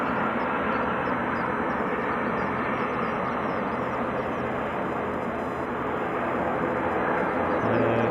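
EasyJet airliner taxiing out at Edinburgh airport, a steady broad jet engine roar heard from a distance, constant and fairly loud throughout with birdsong faintly above.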